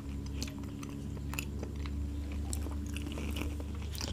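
Close-up chewing and biting of traditional Malay kuih made with coconut milk, with soft crunchy bites recurring steadily over a low steady background hum.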